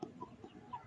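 A broody hen settled on eggs in a homemade box gives a few soft, close clucks in under a second, with quiet gaps in between.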